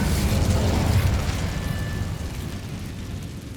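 A fire spell cast in Hogwarts Legacy, a loud whooshing burst with a deep rumbling roar that fades gradually over a few seconds, no talk.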